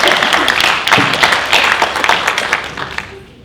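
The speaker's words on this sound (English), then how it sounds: "Round of applause" A small group at a vocabulary training session claps together in a steady burst of applause that thins out and fades by the end.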